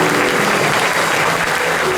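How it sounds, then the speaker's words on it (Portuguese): A church congregation claps together in steady, dense applause throughout, loud and continuous, filling the space during a worship service. "Vamos aplaudir o nosso Deus"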